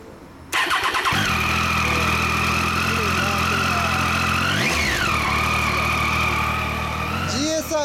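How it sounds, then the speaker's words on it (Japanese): A 2010 Yamaha Maxam 250 (CP250) big scooter engine fires up and settles into a loud, close, steady idle, with one quick rev midway and a brief voice near the end. "エンジン音聞かして"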